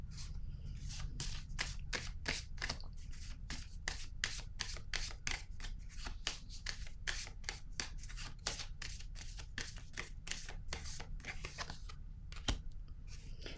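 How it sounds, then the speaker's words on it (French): Tarot cards are shuffled and riffled in a steady run of crisp, rapid flicks and slaps, close and fairly quiet, with no talking over them. "je vais déposer une autre carte"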